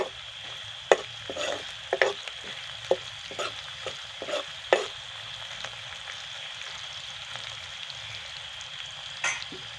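Bay leaves and spices fry in a pan with a low steady sizzle, broken by several sharp scraping stirs of a spatula, close by and with no talk.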